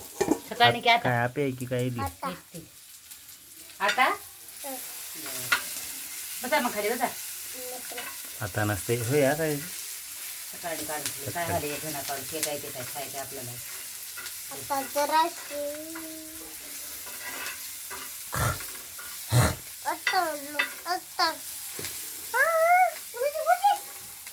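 Okra and green chilies frying in a pan while being stirred, with steady sizzling and scraping running throughout as someone talks over the cooking.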